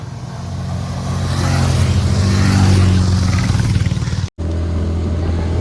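Motorcycles of a riders' group on a road ride from Nashik to Harishchandragad pass close by, a loud, steady engine drone with low rumble that briefly cuts out before resuming.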